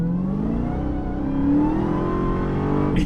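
A 2021 Dodge Charger SRT Hellcat Redeye Widebody on 305-section tires all around accelerates hard, its engine note climbing steadily and loud throughout as the tires struggle for grip.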